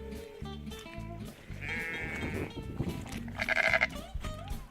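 Sheep bleat repeatedly at feeding time on a farm, several overlapping calls rising loud and close over a steady background of livestock noise.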